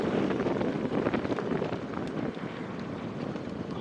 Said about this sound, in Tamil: அந்த கரையோரமாக இருக்கிற கிராமத்தில் நல்லா காற்றடிக்குது